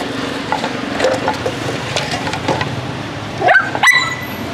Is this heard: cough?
no